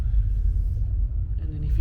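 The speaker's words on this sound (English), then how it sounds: "if you can hear that rumbling, that's Charing Cross Station" Low, steady underground train rumble from near Charing Cross or Embankment carries through a cave-like wine cellar, continuous and deep throughout.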